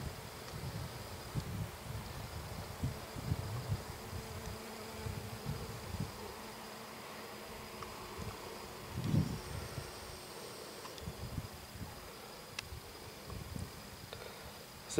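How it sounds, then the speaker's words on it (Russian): Honey bees work an apiary hive in October while gathering nectar, producing a faint, steady low buzz with soft rustling through the whole stretch and one brief louder swell partway through. "Пчела работает полным ходом."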